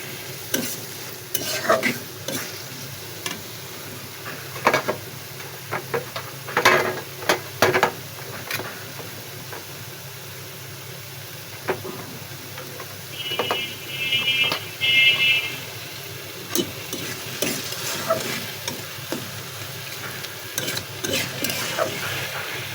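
Dried small fish and taro stolons stir-fry in a pan, a steady low sizzle punctuated by frequent loud scrapes and knocks of a spatula against the metal, with a brief electronic beep partway through.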